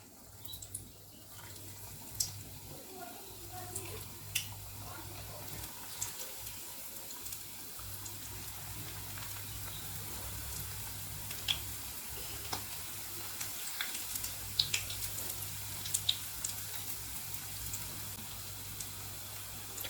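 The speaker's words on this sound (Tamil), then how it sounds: "எண்ணெய் நல்லா சூடானதுக்கப்புறமா இப்போ நம்ம ரோல் பண்ணி வச்சுருந்தா நம்ம சமோசாவை வந்து ஒன்று ஒன்றா போட்டு ஃப்ரை பண்ணிக்கலாம்" Potato roll samosas frying in hot oil, a steady soft sizzle with light crackles and pops continuing throughout, fairly quiet and without talk.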